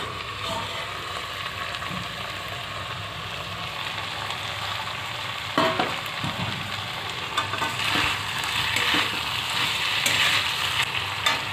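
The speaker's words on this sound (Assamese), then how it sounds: "দুই মিনিট সময় ভাজি লৈছোঁ" Raw green banana pieces fry steadily in a pan, a continuous close sizzle that swells slightly in the second half with occasional stirring clatter, no talking.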